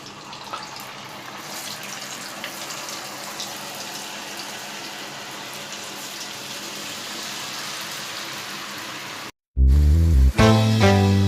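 A batch of homemade french fries fries in hot oil, a dense, even hiss of crackling bubbles that runs steadily, then ends in a short burst of loud clattering.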